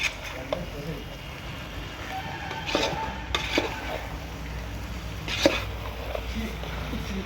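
Pork curry being stirred in a pot, scattered scraping and clinking of a spoon against metal amid a background hiss, with people talking nearby.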